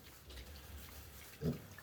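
Pigs on a farm give a single short grunt, faint and close, against a quiet low background hum.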